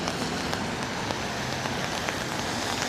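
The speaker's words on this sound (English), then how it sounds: "it's raining" Rain falls outdoors in New York near the Dakota building on a cold day, a steady dense hiss with scattered sharper drop taps throughout, moderately loud and without voices.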